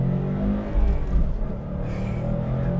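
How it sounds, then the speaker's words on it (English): A Subaru WRX STI with its STI-tuned EJ257 engine drives along, producing a steady, loud, low engine drone and road roar heard up close throughout the short stretch. "Under the hood, you're going to have the EJ257 engine."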